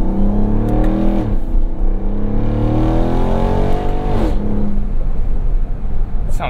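A Ram TRX pickup fitted with an AWE 0FG exhaust revs repeatedly, its deep engine note climbing and falling in a few strong sweeps, loud and steady throughout.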